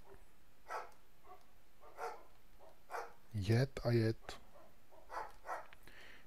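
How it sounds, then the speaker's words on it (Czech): A dog barks in a Minecraft game world, short yips repeating every second or so at a modest, slightly distant level, with a louder voice cutting in briefly near the middle. "venku štěká se pes"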